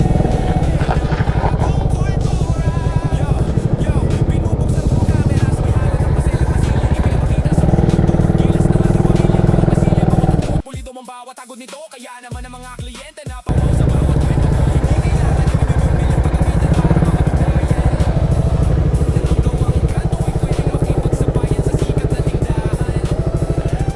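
Motorcycle engine on a trip toward a hillside spot in Baguio City, a loud continuous running drone that briefly cuts out for a few seconds and then resumes.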